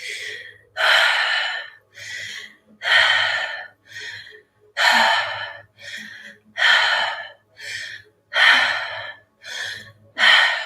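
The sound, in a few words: deep breath in during meditation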